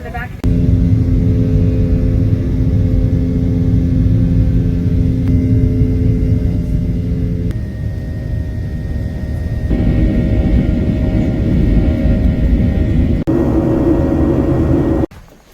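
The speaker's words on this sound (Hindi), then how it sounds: "I've boarded already and the flight is full." Inside the cabin of a full passenger airliner, a loud, constant engine drone and rumble fills the clip. Its pitch shifts in steps, as during takeoff or climb, and it cuts off near the end.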